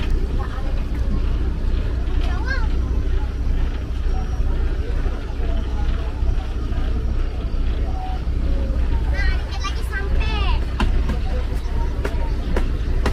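A riverboat docking at Tering port on the Mahakam River gives off a constant low engine drone, with someone talking over it throughout.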